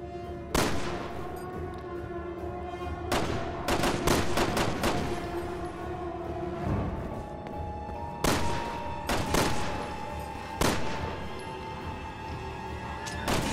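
Gunshots in the video game Resident Evil 6: scattered sharp reports, some single and some in quick clusters of three or four, loud and close over a low, rumbling ambient background. No speech is heard.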